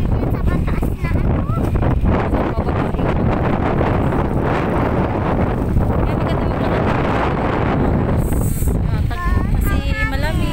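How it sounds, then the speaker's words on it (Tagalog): Strong wind buffets the microphone on a bridge over a wide stretch of water, a loud, steady rumbling roar throughout, with faint voices and other noises surfacing near the end. "Ang sarap pa naman ng hangin dito."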